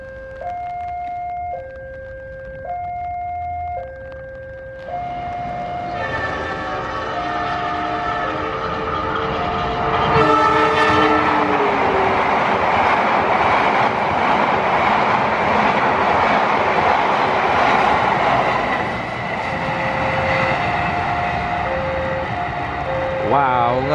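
The Argo Wilis train races past at high speed, its horn sounding in repeated two-tone blasts before a loud rushing roar and rattle of cars that builds and then holds, with another horn note near the end.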